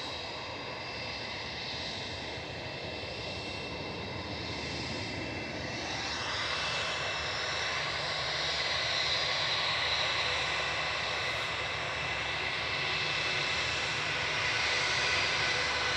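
Eurowings Airbus A319 jet departing Manchester Airport for Dusseldorf, a broad, distant engine roar that holds steady and swells slightly louder midway, with no voices over it.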